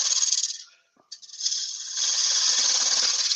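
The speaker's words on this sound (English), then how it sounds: "I'll get my spindle gouge just to shape the lid" A spindle gouge cuts a wooden lid spinning on a lathe, giving a steady close hissing, scraping rasp that stops briefly and then resumes stronger.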